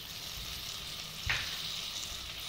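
Potatoes fry in a pan for a chickpea and moringa leaf curry, giving a steady close sizzle. A brief sharper hiss and thud comes midway as tomatoes are dropped in.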